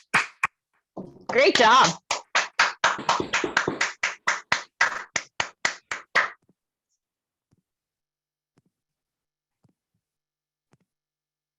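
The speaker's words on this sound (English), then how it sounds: "Let's give him another round of applause" A round of applause during an online pitch contest, with a voice speaking briefly at the start, then sparse clapping from a few hands that gradually thins out and stops, leaving near silence.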